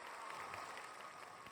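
A brief round of applause from a small audience, steady clapping heard alone at moderate distance.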